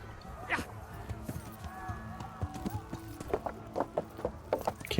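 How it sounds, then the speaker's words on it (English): Horse hooves clip-clop irregularly across ground in the video game Kingdom Come: Deliverance, with uneven thudding steps among other game sounds and a voice talking briefly. "Horse!"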